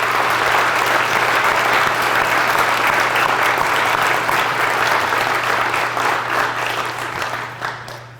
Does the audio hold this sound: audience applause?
yes